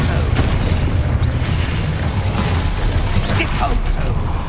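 A loud spell blast from Hogwarts Legacy, booming and sustained with crackling bursts layered on top, heard up close.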